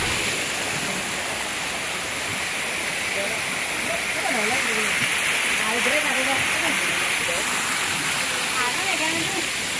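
Busagak Falls in Pinamungajan, Cebu, a waterfall rushing in a steady broadband roar close by, with people talking and calling out over the water throughout.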